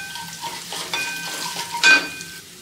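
Curry leaves dropped into hot oil with crushed coriander seeds, frying for a mini samosa filling, sizzle and crackle steadily while being stirred, with a louder spitting burst near the end.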